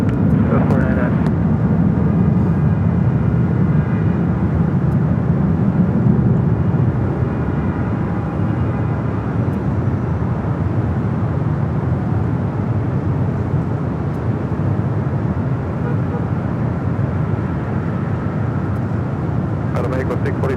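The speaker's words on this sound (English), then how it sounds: "Up next, Air Mexico 787-8 Dreamliner heading to Mexico City." Steady, loud jet roar from an Aeromexico Boeing 787-8 Dreamliner departing LAX for Mexico City, a broad continuous rumble holding for about twenty seconds with air-traffic radio voices faintly underneath.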